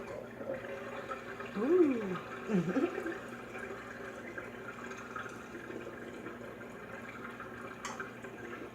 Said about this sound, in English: we're going to drain the water now because these have been sitting for about 15 minutes now